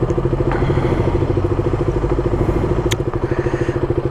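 A Honda CBR1000RR Repsol Edition motorcycle with an SC Project exhaust idles nearby, a loud, lumpy, pulsing engine rumble that carries on steadily throughout.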